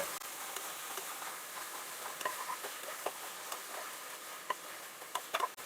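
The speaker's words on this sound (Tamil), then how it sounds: "கேரட்டை போட்டு இதை நல்லா வதக்கி விடுறோம்" Potatoes and carrots being sautéed for a coconut milk vegetable pulao: a quiet, steady sizzle with scattered clicks and ticks of a spoon stirring in the pan, fairly close and without any talk.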